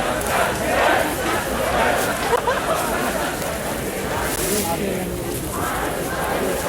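A crowd at a Minsk rally chants together, loud and close, a dense mass of shouting voices that rises and falls in waves with no pauses.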